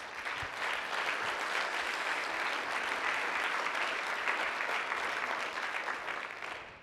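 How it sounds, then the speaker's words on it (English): A room full of people claps in sustained applause, dense and even throughout, fading slightly at the end. "So give yourselves a round of applause"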